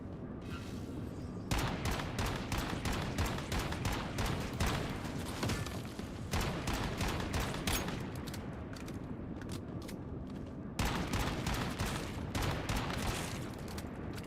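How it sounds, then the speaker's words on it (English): Repeated bursts of gunfire from the video game Once Human come in rapid volleys separated by short gaps, loud and close throughout with no talking. "Just shoot into the center of the fire."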